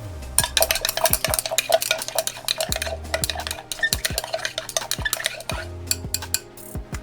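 Glycerin is stirred into a lavender facial mist mixture, giving a quick run of close, bright clinks and scrapes of a utensil against a container, rhythmic and continuous with no voices.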